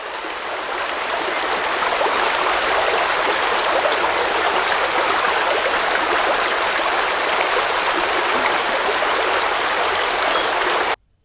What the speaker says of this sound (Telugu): ఇదే infinity pool and Surla water falls